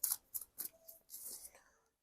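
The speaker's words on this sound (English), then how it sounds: "Okay, one more shuffle and good to go." A few quick, quiet tarot card shuffles give short crisp papery snaps in an uneven rhythm, close to the microphone, then fade out.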